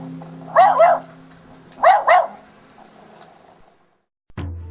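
A dog barks twice, each time as a quick double bark, loud and close, with a faint hum behind and a dull knock at the end.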